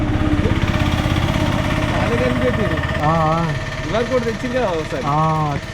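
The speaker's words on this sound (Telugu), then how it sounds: "గ్యాస్ బుడ్డి బైక్" A motorbike running on a gas cylinder idles with a low, steady rumble while people talk loudly over it.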